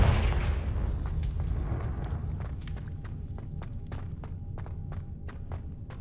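A Confringo blasting spell goes off in Hogwarts Legacy at a hidden herbology corridor entrance, a loud low booming explosion that rumbles and slowly fades while sharp debris clicks and crackles scatter over the tail.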